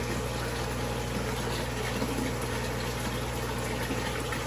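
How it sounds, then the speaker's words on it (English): Pumps run steadily with a dense gushing of water filling pails and tanks in a home fish room, a constant close hiss and hum with no speech. "the water is filling up my tanks from the pumps"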